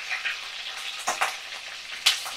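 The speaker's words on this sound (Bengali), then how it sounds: "সুন্দর করে লাল লাল করে আমি চিংড়ি মাছগুলোকে ভাজা করে নিচ্ছি" Prawns skewered on sticks fry in a pan with a continuous close sizzle, broken by a few sharper crackles and stirring scrapes.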